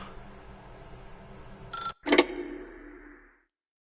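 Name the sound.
telephone ringing in a video game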